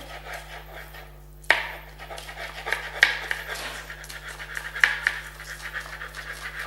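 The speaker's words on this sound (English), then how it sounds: "take the spring onion and chop it off and just cut it into discs" A knife cuts spring onion into discs on a board, with sharp close taps at irregular intervals over a low steady background hum.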